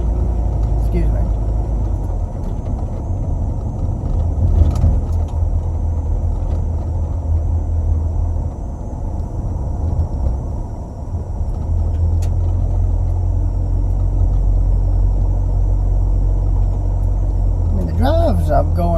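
A car engine rumbles steadily while cruising at around 30 mph on a rural road, a continuous low drone throughout with a person talking over it.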